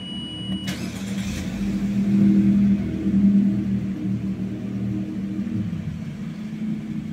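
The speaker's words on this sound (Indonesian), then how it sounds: "Untuk nyalakan mesin, tekan tombol engine start stop seperti ini." A 2022 Mitsubishi Xpander Ultimate is started with its push button: a short click and starter crank, then the engine catches with a rising rumble and settles into a steady low idle nearby.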